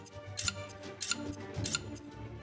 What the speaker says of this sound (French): Le son de ciseaux résonna dans le silence.